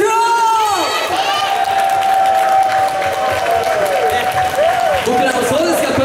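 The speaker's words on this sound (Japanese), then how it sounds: "自分自身に一人一人に大きい拍手を" Crowd applause and cheering fill an outdoor plaza event at Elgala Passage square, Daimaru Fukuoka Tenjin, steady and loud throughout, with voices and a sustained tone cutting through the clapping.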